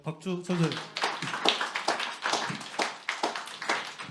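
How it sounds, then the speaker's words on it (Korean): A middle-school church congregation claps together in a steady patter of sharp, close hand claps, with a voice speaking briefly at the start. "항상 감사드리고 박수 쳐주세요."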